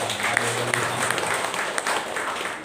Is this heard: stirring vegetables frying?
no